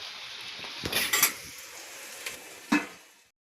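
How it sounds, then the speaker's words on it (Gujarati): Green peas and other vegetables frying in oil for a winter eggplant oro, heard as a soft, faint sizzle punctuated by a few sharp clatters of a spoon against the pan, with no voices. "નાખી દેવી હવે તેલમાં બધું સડવા દેવી"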